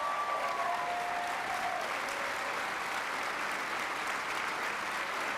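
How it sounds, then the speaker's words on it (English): An audience at a State of the State address applauds school lunch staff, with sustained, even clapping filling the room. A brief tonal whistle or feedback sound fades out near the start. "Let's give them a round of applause."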